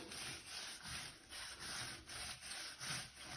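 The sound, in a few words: brush scrubbing rust stain off Victorian tiles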